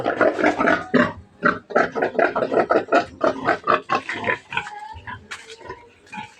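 A boar pig on a Filipino backyard farm grunts in a steady run of close, loud, rough snorts and oinks, pausing briefly near the end before a few last grunts.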